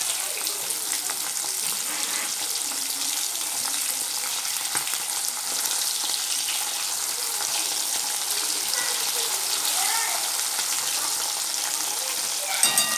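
Mosapparai fish sizzles and fries steadily in a hot pan after being turned over, a dense continuous crackle with a few brief clinks near the end.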